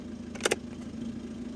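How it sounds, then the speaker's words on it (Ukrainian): Low steady hum of an idling Peugeot engine with its air conditioner fan whooshing, interrupted briefly by a couple of clicks near the start. "Вмикаємо кондиціонер."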